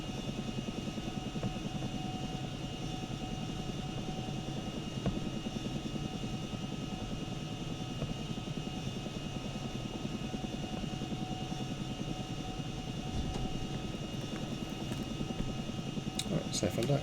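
Chinook helicopter rotors in the video game ArmA keep up a steady, even whirring drone throughout, a continuous quiet mechanical hum with faint clicks near the end.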